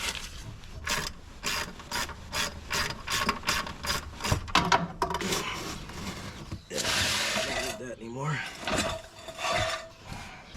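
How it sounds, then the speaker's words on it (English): A torque wrench ratchets on the starter bolts of a 1962 Cadillac, giving quick, close clicking strokes in a steady rhythm, followed by scraping and fumbling of tools and metal. "But this is not the right torque wrench for this."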